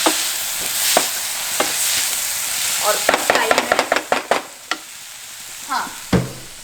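Tomatoes are stirred into a sizzling frying pan, with a steady hiss of frying under a rapid series of scraping spoon strokes; someone speaks briefly over the cooking.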